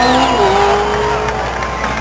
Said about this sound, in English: got a little donut show going on here